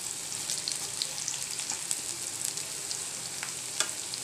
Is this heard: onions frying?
yes